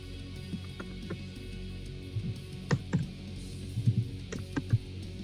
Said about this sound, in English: mashing the keyboard